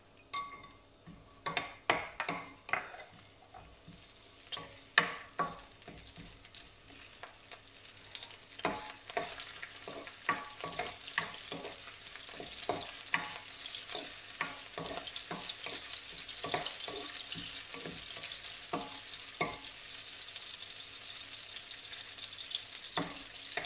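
Sprats frying in hot oil in a pan for a Sri Lankan prawn curry, a steady bright sizzle with scattered crackles and occasional utensil clinks, close and continuous with no talk.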